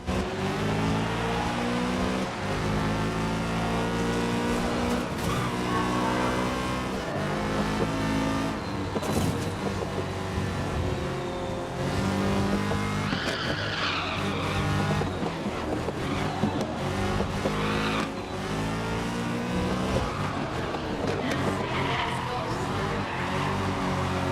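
Race cars in a sim racing video game scream past with engines revving up and down in rising and falling pitch, with occasional tyre squeals over a continuous loud motor drone.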